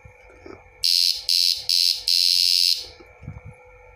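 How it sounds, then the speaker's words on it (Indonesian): A loud, harsh electronic buzzing tone from a pulsator sounds in four bursts, the last one longest, over faint background noise and low murmuring. "suaranya kencang guys ini pulsator ya"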